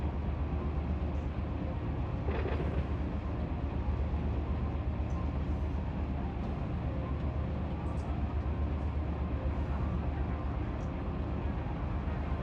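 A train rolls past in the Run 8 railroad simulator game, a steady, dense rumble and rattle of cars that stays constant throughout, loud and close with no talking.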